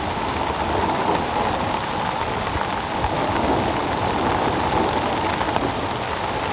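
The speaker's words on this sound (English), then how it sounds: "I got the thunderstorm I was looking for." Heavy thunderstorm rain pouring steadily over a wilderness campsite on a canoe trip, a dense unbroken hiss of drops drumming on surfaces, loud and close with no talking.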